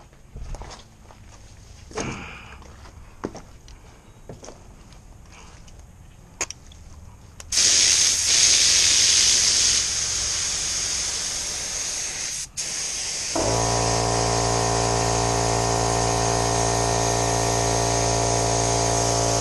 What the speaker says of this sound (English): spray that thinner through the gun